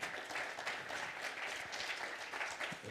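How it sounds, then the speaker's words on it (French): Audience applause welcoming an agricultural engineer back on stage at a talk on no-code tools for farming, a dense, steady wash of many hands clapping throughout at moderate loudness. "je vous remercie d'accueillir avec vos applaudissements à nouveau Louis Poulain"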